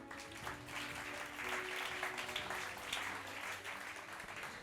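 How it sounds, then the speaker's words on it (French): An audience applauds a winner at a French awards ceremony for market research and innovation. The clapping is steady, sustained and fairly faint, heard as a continuous patter from a distance. "On les applaudit."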